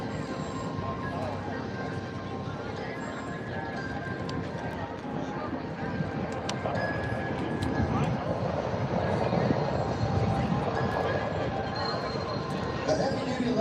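A Boeing C-17 military transport aircraft flies at an air force base airshow, its broad, steady jet roar holding throughout and swelling louder in the second half, with crowd and announcer noise mixed beneath.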